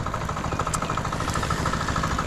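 A borrowed small engine for pumping water runs steadily at close range, a continuous rhythmic chug with no breaks.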